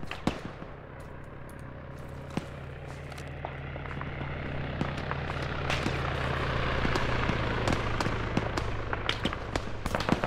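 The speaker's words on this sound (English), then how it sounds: "I hear the shots." Gunfire in the military shooter Arma, with scattered distant shots and pops over a steady low engine-like drone, sharper cracks clustering toward the end.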